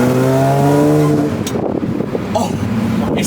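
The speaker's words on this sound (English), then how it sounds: "Oh, it sounds so raspy though" A supercharged Audi A6 engine, recently revived after flood damage, revs hard and raspy up close, its rising whine fading into wind noise as people talk over it.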